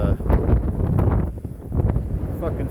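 Strong gusts buffet the microphone in a continuous low roaring rumble, with voices mixed in underneath.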